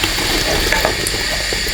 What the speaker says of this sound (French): On mélange nos légumes ensemble.